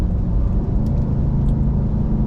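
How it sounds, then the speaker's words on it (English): A 2022 Nissan Titan XD pickup truck idles with a deep, steady engine growl, a loud continuous low rumble close by with no voices over it. "this thing growls pretty good. I love the sound of it"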